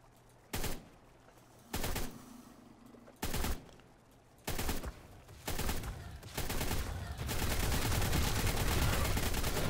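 Assault rifle gunfire in ARK: Aberration: several short bursts at roughly one-second intervals, then sustained continuous automatic fire, loud and close with no talking.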